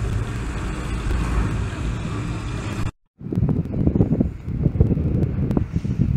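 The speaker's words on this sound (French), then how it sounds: "Je sais qu'il y a un peu de vent pour le dôme." Strong wind buffets the microphone outdoors at a volcano theme park, a loud steady rumble that cuts out briefly midway, then returns in gusts.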